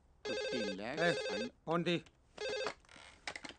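A landline telephone rings in loud, warbling bursts, several rings separated by short gaps, close and clear.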